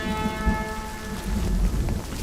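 Steady rain falls in a dramatic movie scene, a dense hiss with a low rumble underneath and a faint tonal hum, continuous and fairly loud.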